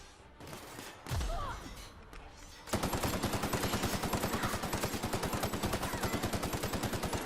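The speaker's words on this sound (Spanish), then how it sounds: "Hay que darle pura metralleta en la cabeza" Rapid machine gun fire in The Outer Worlds video game breaks in after a few seconds of muffled rumbling, then hammers on as a loud, continuous, evenly paced stream of shots to the end.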